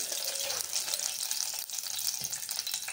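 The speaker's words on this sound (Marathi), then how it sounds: "मग यातलं पाणी काढून घ्यायचं आहे" A continuous hissy wash of water, steady and close, as water is drained off soaked bajra dumplings, with faint clinks underneath.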